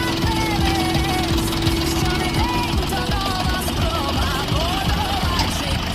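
Engine of a Bulat 244 minitractor running steadily with a gear engaged, a constant loud rumble with a sustained tonal hum throughout and some faint background voices.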